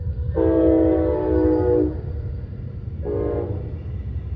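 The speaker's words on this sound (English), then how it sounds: "Do you hear the train?" A loud, close train horn blares twice in Stuart, Florida, a long blast followed by a shorter one, over the low rumble of passing rail cars.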